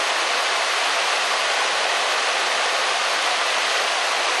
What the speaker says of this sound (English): so serene, the running water.